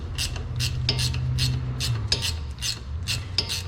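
A wrench loosens a 1/2-inch rear brake caliper guide pin bolt on a Jeep Renegade, giving a close, rhythmic run of rasping metallic ratchet clicks in repeated bursts, heard alone without talk.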